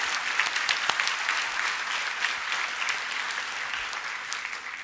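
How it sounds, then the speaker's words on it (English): Applause from the audience at a Grade 5 promotion ceremony, a steady wash of many hands clapping for about five seconds at moderate, slightly distant level with no talk over it. "let's give them a round of applause as well"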